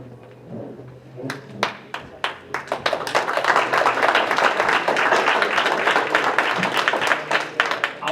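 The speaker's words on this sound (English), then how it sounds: "I'll take that clapping as you just thanking the senator for giving a great talk." Audience at a Granny Brigade gathering with a senator claps and applauds for several seconds, a dense patter of hands building quickly and holding steady, with a few voices mixed in.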